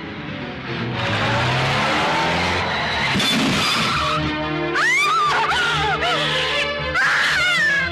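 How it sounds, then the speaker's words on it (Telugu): A car arrives with its engine revving loud and close, and tires squeal in sliding wails that rise and fall through the second half. The engine roar is continuous, with no talk. "అదిగో కారు వచ్చేస్తుంది"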